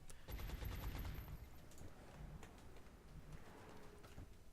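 Suppressing gunfire in the XCOM Long War video game, a faint burst of rapid shots at the start that thins into scattered distant reports and low rumble.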